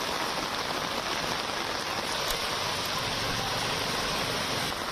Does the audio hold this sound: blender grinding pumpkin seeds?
no